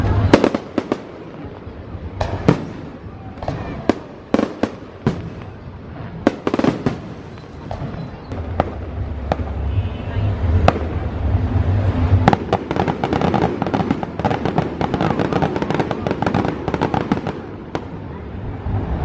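Fireworks pop and crackle repeatedly at the Sinulog festival in Cebu, some sharp bangs standing out, over a steady rumble of bursts that grows denser and continuous toward the finale.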